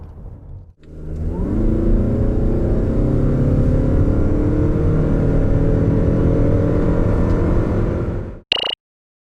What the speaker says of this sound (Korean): 라브4 하이브리드 과연 얼마만큼의 가속 성능을 보여주는지 한번 볼까요?